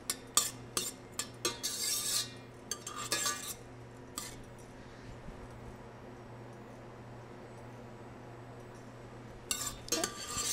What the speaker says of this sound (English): I'm going to add in my onions, making sure that I'm scraping the bottom so that there's no waste.